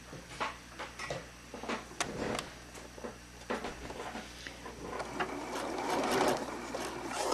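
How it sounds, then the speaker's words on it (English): Sewing machine topstitching an elastic casing on a circle of fabric, with a run of close mechanical ticks and clatters building into a steadier whirring stitch toward the end. "now I'm going to go ahead and top stitch right on top of my marked"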